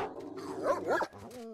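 Dogs in the S.T.A.L.K.E.R. Shadow of Chernobyl video game give a couple of short barks and whines at middle distance, fairly quiet against the game's ambient background.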